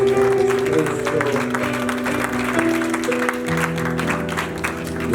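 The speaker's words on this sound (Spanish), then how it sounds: "A ver, dáselo fuerte, las palmas al Señor Jesucristo." Steady rhythmic clapping from a church congregation at a Friday service, with music and a voice carrying over it the whole time.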